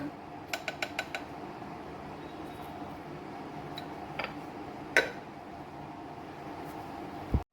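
Masala scrambled egg ingredients with coriander powder and salt stirred together in a bowl, a few light ticking clinks of a spoon against the dish near the start, a sharper tap midway, quiet steady background otherwise.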